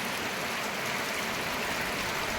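Steady rain falls over farmland in Maharashtra, a dense, even hiss with no breaks, close and moderately loud throughout.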